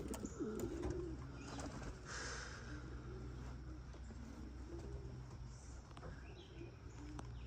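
Breeding pigeon hens cooing in a backyard loft, soft repeated low coos throughout over a steady background hum, with faint wing shuffles and a distant car.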